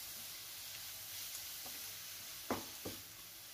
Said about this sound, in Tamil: இப்போது இதை வந்து நல்ல மீடியம் ஃப்ளேமில் வச்சு நம்ம நல்லா வதக்கிக்கணும்.